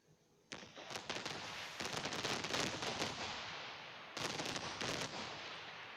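Fireworks bursting in the mobile game Fireworks Arcade: a rapid string of sharp crackling pops and booms, near and loud, with a dense burst early on and another flurry near the end, no talk.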